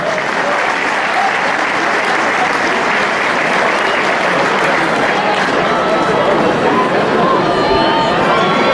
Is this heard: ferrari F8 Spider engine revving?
no